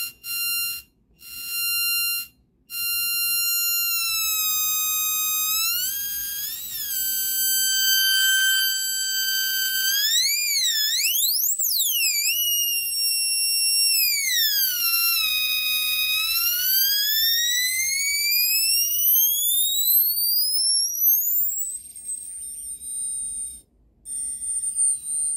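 A push-pull solid-state Tesla coil run from about 6 to 30 volts with a high-frequency interrupter gives a loud, steady electronic whine rich in harmonics, its pitch sweeping up and down repeatedly, with a few brief cutouts.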